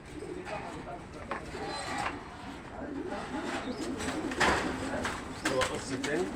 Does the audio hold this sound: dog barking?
no